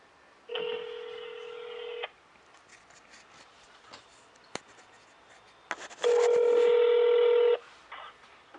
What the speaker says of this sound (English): And I am about to call Ann, my nurse.